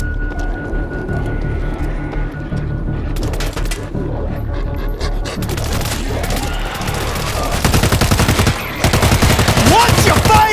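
Sustained automatic gunfire in the World War Z video game, dense bursts of rapid shots and booms throughout, growing heavier toward the end, with voices calling out over the shooting.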